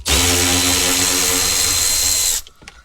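A power tool whirs steadily for over two seconds, loud and close, as it undoes the bolts holding the center console of a Mercedes CLK W209, then cuts off abruptly into quiet.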